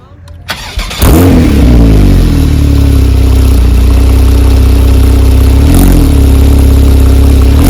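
A 2014 Porsche 911 Turbo S (991.1) engine with aftermarket exhaust cranks and fires up loudly, then settles into a deep, throaty idle with a brief rev partway through.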